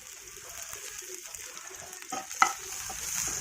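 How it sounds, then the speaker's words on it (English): Chopped onions with cashews and cumin seeds sauteing in a pan, giving a steady soft sizzle with scraping stirs and one sharper clink of a spoon partway through. "Then I added chopped onions and cooking it till golden brown."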